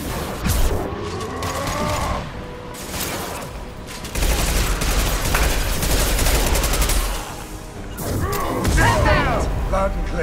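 Bursts of sci-fi weapon fire and impact shots ring out in Mass Effect 2 during a combat scene, with booms and mechanical effects layered over game voices and music.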